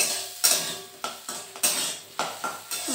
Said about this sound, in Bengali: এবার এই কেটে রাখা আলুগুলোকে দিয়ে দেব যাতে পেঁয়াজের সাথে ভালো মতো ভাজা হয়ে যায়।